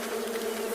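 Steady droning buzz of many insects massed at a wild nest site on a South African safari, a continuous swarm-like hum close by with no pauses.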